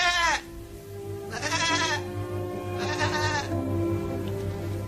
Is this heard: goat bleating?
yes